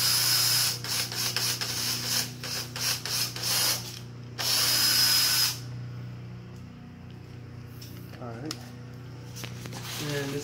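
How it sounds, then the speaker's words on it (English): Several loud bursts of a power drill whir on and off, then stop, with voices nearby. "we're drilling here too?"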